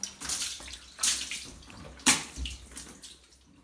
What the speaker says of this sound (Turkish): Bir tasla arkadaşlar suyumu döktüm.